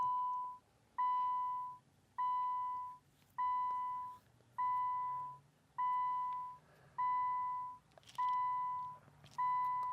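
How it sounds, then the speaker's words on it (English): Repeated electronic warning beeps from a Subaru with the key left in the ignition, roughly nine evenly spaced tones, each lasting about half a second with a short gap, loud and steady over faint background hum. "pull the key out of ignition to stop that horrible beeping sound"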